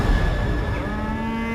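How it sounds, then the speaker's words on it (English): Cattle lowing in a misty meadow, a sustained moo with a wavering tone over a noisy outdoor background, no voices present. "Anne Milner was tending to the family cows as a demon lurked in the field"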